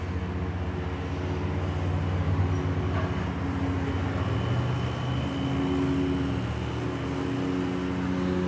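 Trains at a scenic railroad in Lebanon, Ohio: a steady low rumble and hum, like a nearby train idling or rolling slowly, holding even for several seconds with no talking.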